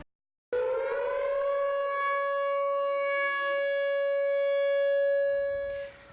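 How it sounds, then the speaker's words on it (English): A civil defense tornado siren sounds during severe weather: one loud, steady wailing tone that starts abruptly, holds for about five seconds and then trails off. "the sirens were sounding during last night's severe weather"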